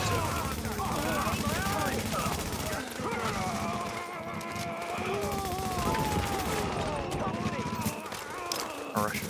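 Gunfire from a firefight in the video game The Division during a Global Event, with rapid shots running steadily through the scene and pitched game effects overlaid.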